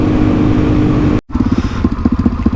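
Suzuki DRZ400E dual sport motorcycle engine running loud and close, a steady dense drone that cuts out briefly, then resumes with choppy pulsing throbs.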